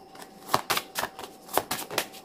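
Oracle cards are shuffled by hand for a reading, making a quick run of crisp, papery riffles and flicks in close, even bursts.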